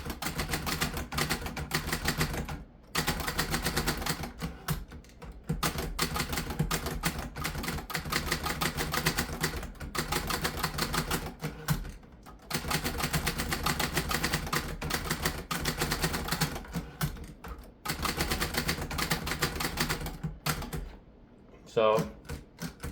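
1960s Hermes 3000 "Boxy" typewriter typing up close, a dense run of rapid sharp key strikes with brief pauses, and a bell ding with carriage movement near the end.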